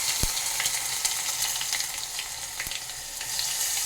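Asafoetida and tomatoes frying in a dal tadka tempering, giving a continuous bright crackling sizzle up close, broken by two sharp clicks or taps from a utensil, with no speech.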